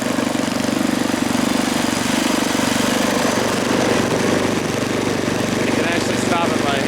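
The 7hp engine of a 1978 Craftsman 24-inch dual-stage snowblower runs steadily and loudly up close, a constant throbbing drone with no pause.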